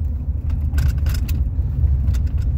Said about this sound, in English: Riding down a very bumpy road, as you can tell.